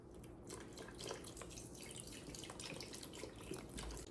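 Chicken stock poured from a carton into a cooking pot, a faint continuous trickling splash that lasts about four seconds.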